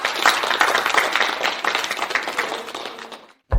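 An audience applauds a company CEO's introduction, a burst of clapping that fades over a few seconds before a brief silence and a sudden new sound.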